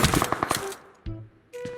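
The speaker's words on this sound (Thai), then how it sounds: "เสียงปืนดัง" Rapid bursts of gunfire in the video game PUBG Mobile crackle in quick succession, then a couple of separate shots follow after a brief pause.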